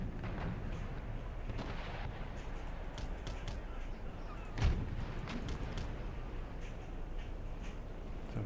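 Naval battle in the strategy game Empire: Total War, with a continuous rumbling roar of distant ship cannon fire and one sharper boom midway, dense and steady throughout.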